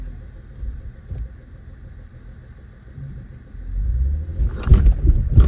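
A manual car's engine idles with a low rumble while a first-time driver struggles to get it into gear, then the revs rise and clunky knocks and rattles follow near the end; no talking.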